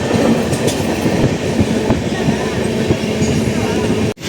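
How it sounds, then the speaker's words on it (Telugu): A Bhubaneswar Superfast Express runs at steady speed near Ongole, heard from inside with a continuous loud rumble and rhythmic wheel clicks on the rails, ending in a brief dropout. "గత 10 minutes నుంచి ఇదే స్పీడ్తో నడుస్తుంది మన ట్రైన్."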